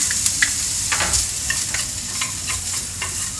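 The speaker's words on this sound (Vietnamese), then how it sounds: "rồi chảo nóng mình sẽ cho ba rọi xông khói vào xúc xích rồi mình áp chảo nha" Bacon and sausage sear in a hot pan with a bright, continuous sizzle, punctuated by a few crisp spatters and scrapes of the pan, close up and with no talking.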